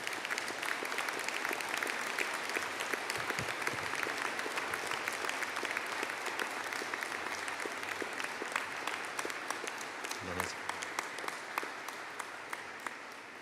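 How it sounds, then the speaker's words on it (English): A graduation ceremony audience for an engineering and informatics faculty gives sustained, dense applause, many hands clapping steadily from start to finish and tapering slightly toward the end. "I would kindly ask them to stand for a collective round of applause."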